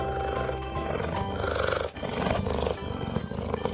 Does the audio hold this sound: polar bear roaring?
yes